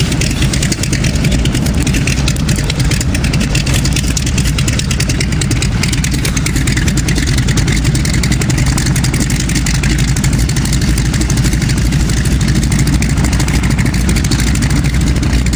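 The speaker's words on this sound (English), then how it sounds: "crop duster in the woods." The piston engine of an Air Tractor crop duster plane, parked on a country airstrip beside woods, idles with a loud, steady, unbroken drone heard close by, with no talk over it.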